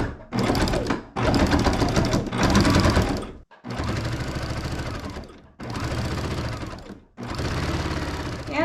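A sewing machine with burgundy thread and a walking foot runs a 1/2 inch seam through curtain panels, whirring steadily in several loud close bursts separated by brief pauses, with no talking.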